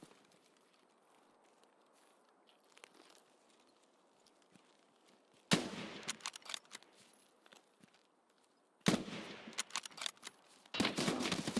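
Escape From Tarkov gameplay with a Mosin rifle: quiet footsteps and rustling at first, then sudden loud bursts of gunfire and impacts in two separate clusters, each sharp and close, with no one talking.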